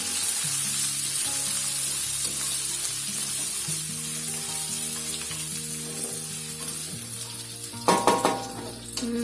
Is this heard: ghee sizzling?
yes